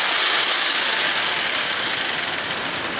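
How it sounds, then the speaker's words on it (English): Jigsaw cutting a wooden stair stringer: a loud, close, continuous buzzing roar with a rapid blade chatter, steady for about three seconds. "Now I've got this jigsaw, it ain't much."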